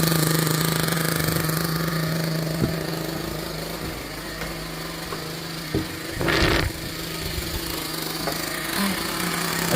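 Team Associated MGT RC monster truck, nicknamed the kraken, with its small nitro engine idling steadily throughout, a brief louder burst near the middle and no talking.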